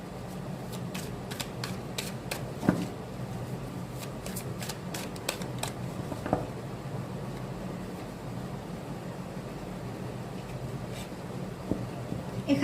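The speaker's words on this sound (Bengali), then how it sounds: "আমি একটু সাফল করে নিই, 3টে কার্ড নেব।" Tarot cards are shuffled by hand, giving a run of quick, crisp paper flicks and riffles over a steady low background hum, with no one speaking.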